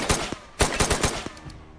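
Makarov pistol gunfire in the VR shooter Tactical Assault VR, a rapid string of sharp close shots in two bursts, loud and up front with no talking.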